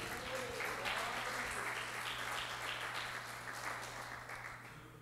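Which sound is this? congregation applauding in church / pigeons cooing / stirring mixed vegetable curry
congregation applauding in church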